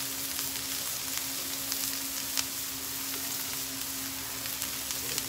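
Sausages sizzle in a hot skillet with a continuous close crackle and hiss, steady in level, plus a faint low hum underneath and occasional small pops.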